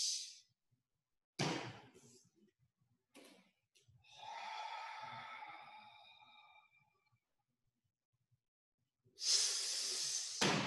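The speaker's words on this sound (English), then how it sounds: "I'm going to try to really make my breathing exaggerated so you can see how this is a breathing exercise" Exaggerated breathing exercise: a person takes slow, deep audible breaths, sharp hissing exhales and a long airy breath with gaps of near silence between them, close and clear.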